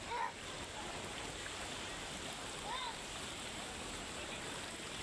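A fast, raging river rushes past in a continuous broadband wash, faint and steady, with a brief voice and chirp-like sounds above the water.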